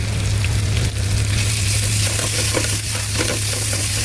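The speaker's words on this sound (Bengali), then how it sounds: "এই আমি এখন কাঁচামরিচ কুচি দিয়ে দেবো।" Chopped green chillies frying and sizzling in a pan with salt, ginger and garlic while a tomato chutney is cooked, with a steady close hiss and low hum running throughout.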